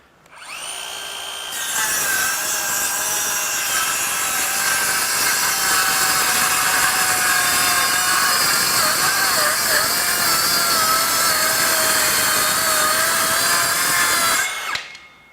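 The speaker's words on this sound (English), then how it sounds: "so just make a rip cut or two in this oak just to make sure it's going to do the work" DeWalt XTREME 12V DCS512B cordless circular saw rip-cutting 3/4-inch oak: a loud, close, steady whining cut that spins up after a brief start and holds for about thirteen seconds before winding down, with no talking.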